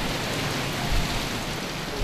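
Strong wind and heavy rain from tropical storm Higos on the Sai Wan Ho waterfront in Hong Kong, a dense, steady roar of rain and gusts with no voices.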